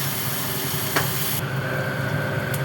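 Chopped onion and garlic go into hot oil already holding cumin, a dried red chilli and a bay leaf for cauliflower rezala, giving a steady, loud sizzle that continues without a break, with a faint clink partway through.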